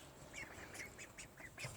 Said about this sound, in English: I get some food for these baby ducks.